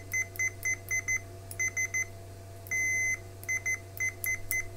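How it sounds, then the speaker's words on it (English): Continuity tester on a Major Tech MT1880 multimeter sounding a series of short, clear beeps in quick irregular bursts, with one longer sustained tone near the middle, close and fairly loud over a steady low hum. "have a look at the continuity tester on this meter and see how it responds"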